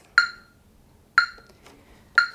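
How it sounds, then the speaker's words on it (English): Three sharp, bright metronome clicks land about one second apart, steady and clean over a faint background hush. "I'm going to turn on a metronome."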